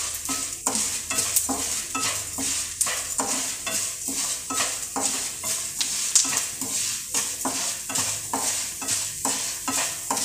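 Urad dal roasting and being stirred in a pan over a medium flame, a steady run of scraping stir strokes over a soft continuous sizzle, close and moderately loud with no voices.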